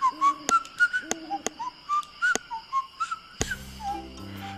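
A person whistles a tune in short melodic phrases punctuated by sharp clicks, close and clear, ending as a chord of game music comes in.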